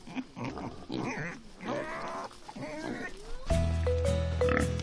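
Pigs grunt and snort in a pigsty, giving rough, irregular calls up close, with a tonal musical backing in the second half.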